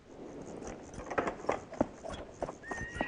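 Horse from a Tuvan film, hooves clip-clopping in a loose irregular rhythm with a neigh toward the end, over a noisy outdoor background.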